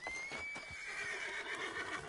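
A horse in the video game Red Dead Redemption II gives a clear, drawn-out whinny with soft hoof clip-clops beneath, close and alone without talk.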